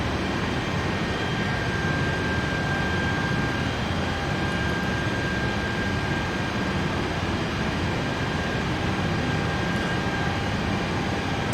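Steady, loud drone of an aircraft engine in a flight simulator game, broadband and unchanging for the whole stretch with no talk.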